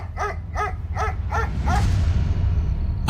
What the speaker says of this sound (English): I heard Jupiter bark in the middle of the night.